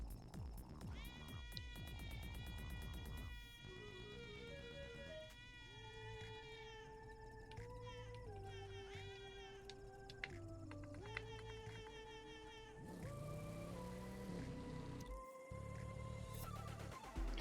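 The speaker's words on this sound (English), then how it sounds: "I changed the horn to be a meow." In The Crew 2 racing game, a car horn swapped for a cat meow sounds as a string of drawn-out, pitch-bending meows, some held long, over a low engine drone with game sounds between them.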